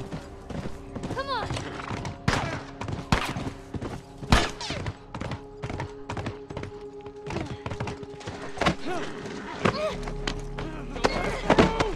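Horse hooves clop in The Last of Us, a quick irregular run of sharp wooden thuds heard up close, mixed with shouting voices and tense game sounds throughout.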